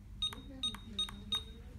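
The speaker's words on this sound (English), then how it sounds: "We have manipulated the buzzer" A traditional card payment terminal's buzzer sounds four short, evenly spaced electronic beeps, each a clear high tone with a quieter low hum running underneath.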